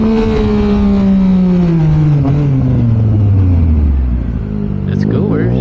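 A big bike motorcycle rides on a city road, its engine loud and close with a steady drone that falls in pitch as it slows, wind noise rushing over it throughout.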